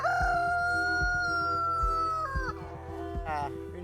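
A black Géline de Touraine chicken crows loudly close by, a long drawn-out call followed by a shorter second crow, over a steady low rumble.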